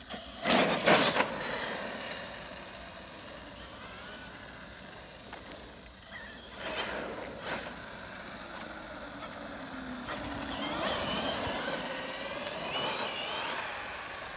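An Arrma Kraton EXB RC truck runs with its electric motor whining and rising and falling as it is driven in wheelies. The sound comes from a moderate distance against steady outdoor background noise, with no talk.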